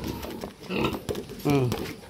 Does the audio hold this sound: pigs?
yes